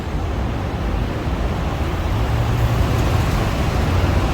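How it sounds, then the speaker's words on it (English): Steady roadway rumble of heavy truck and car traffic in an industrial area beside overpass construction in Bangkok, a continuous low droning wash with no break, close and fairly loud throughout. "So a lot of trucks coming through here."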